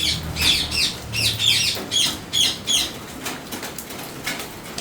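Bursts of wings flapping close by, several flurries in quick succession, with scattered squawks and coos from birds among them.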